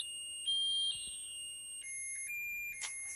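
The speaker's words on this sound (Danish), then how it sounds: "Brandalarmen" Smoke alarm shrieking from the heavy smoke of small birthday cake candles, a continuous high, piercing electronic tone that shifts pitch in steps, steady and loud with no voices.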